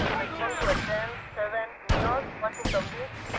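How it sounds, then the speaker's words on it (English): Game gunfire in GTA Vice City at a police station, a few sharp bursts and single shots breaking through a busy mix of game sounds and chatter, moderately loud and close. "I can hear gunfire"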